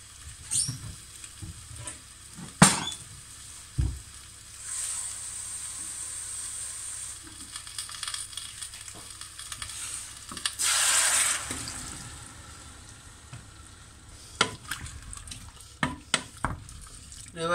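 Dried onion sizzles quietly in a pot on the stove, a soft steady fry punctuated by scattered clinks and utensil knocks, with a louder hiss surging as water is poured in partway through.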